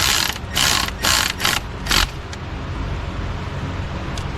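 A ratchet tightens the cable bolt on a Mercedes E350 alternator, giving four quick clicking bursts close up, then quieter background hum.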